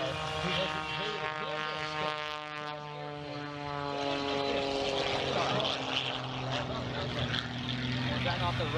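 Propeller aircraft engine droning steadily throughout at an airshow, with a strong sustained harmonic tone, fairly loud and continuous, overlaid by commentary talk.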